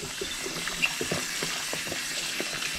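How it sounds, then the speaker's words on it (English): Shrimp being washed under running water, a steady close hiss of flowing tap water with small splashes and knocks as the shrimp are handled. "You want to wash the shrimp"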